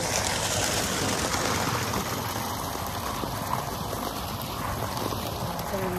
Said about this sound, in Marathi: अख्खा पावसाने माहोल बनवलेला आहे. मस्त पाणी पडलेलं